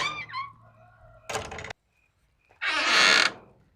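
Chickens inside a mobile chicken tractor cluck briefly, then come a short creak of the structure and a loud squawking burst near the end, all close by.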